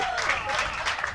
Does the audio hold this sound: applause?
yes